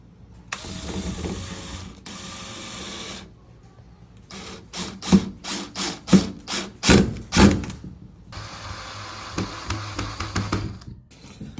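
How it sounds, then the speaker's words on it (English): A screw is driven through a pre-drilled metal hole on a recessed pocket door handle, with bursts of a power driver whirring between a series of sharp ratcheting clicks and knocks, close up and without speech. "got that screw in and that one up there"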